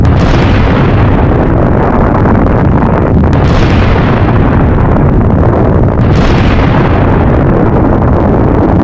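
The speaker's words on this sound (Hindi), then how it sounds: "चाबहार पोर्ट के पास हमला होता है और जबरदस्त धमाका यहां पर होता हुआ दिखता है।" A massive explosion from an attack near Chabahar port thunders in heavy, distorted booms, with rolling blasts that surge and overlap as if caught close by on raw footage.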